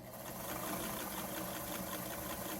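A Singer 99K sewing machine runs steadily after oiling and cleaning, giving a continuous mechanical whir with a fast, even clatter at a constant level, close and alone with no voices.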